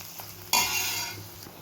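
Coconut pieces hitting a pan of frying onions set off a sudden loud sizzle that slowly fades, with a light metallic clink of a utensil.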